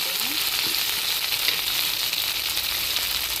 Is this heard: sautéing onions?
yes